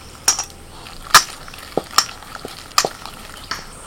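Ginger, garlic and green chilli paste being stirred into gram flour batter with a little water, giving a few wet, sloppy strokes and clinks spaced through the clip, close and moderately loud with no talk.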